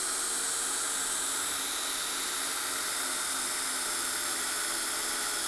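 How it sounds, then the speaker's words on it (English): An 1/8-inch drill bit bores through a metal drop bracket during a Kmod Gen 3 install, giving a continuous high, hissing whine that stays steady and loud for several seconds with no talking. "take an 1/8-inch drill bit and just run that through the original drop bracket"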